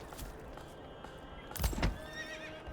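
A horse neighs in the medieval city-building game Manor Lords, a short whinny around the middle of the clip over quiet ambient game sound with faint clip-clop.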